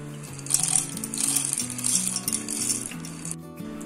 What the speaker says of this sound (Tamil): இந்த கடலையை வந்துட்டு ஃபர்ஸ்ட் நம்ம மிக்ஸி ஜார்ல சேர்த்திடுவோம்.